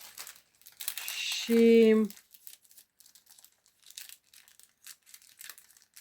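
Cellophane being cut with scissors, crisp crinkling and tearing rustles in short bursts, with a brief spoken word partway through and quiet handling noises afterward.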